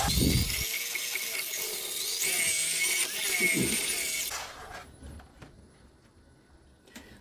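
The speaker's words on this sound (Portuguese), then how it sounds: "vou lixar toda ela aqui, ó, na parte de dentro" Steady high-pitched whir of sandpaper pressed against the inside of a spinning wooden bowl on a lathe, continuous for several seconds before the abrasive hiss cuts out and the motor winds down.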